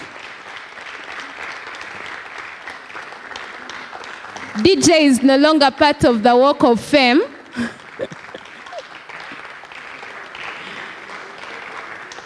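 A conference audience claps for an award recipient in a loud, dense burst of applause lasting a few seconds, set between stretches of a speaker's amplified talk.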